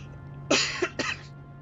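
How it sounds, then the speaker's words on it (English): A person coughs twice in quick succession, close and fairly loud, with a short throaty rasp over a quiet room hum. "Apologies for the cough, by the way."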